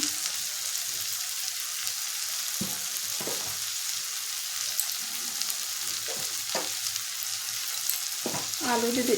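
Water poured into a frying pan of egg curry with spices and salt, a steady sizzle and frying hiss throughout with a few stirring scrapes and a louder bubbling surge near the end.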